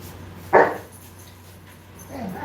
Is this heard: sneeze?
no